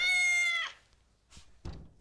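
A cat meows once in a clear, drawn-out harmonic cry, followed by a short rustle and a soft thunk, with no talking.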